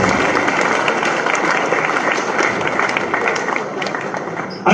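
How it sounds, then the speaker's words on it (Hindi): Dense, loud applause from an audience at a university award ceremony for national trophy winners, a continuous wash of many hands clapping with some voices mixed in. "जोरदार तालियों के साथ"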